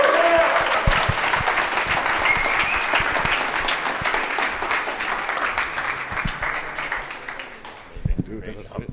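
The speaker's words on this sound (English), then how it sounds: "Give him another round of applause." A conference audience at a Bitcoin event in Medellín bursts into loud, dense applause that carries on steadily for several seconds before gradually thinning out.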